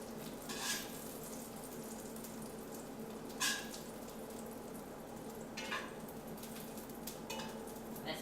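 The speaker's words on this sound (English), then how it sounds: "Sizzling meat, my friends. Still sizzling." Beef donair meat sizzles steadily in a hot pan, a constant frying hiss with a few sharper crackles and clinks of tongs, and no talking.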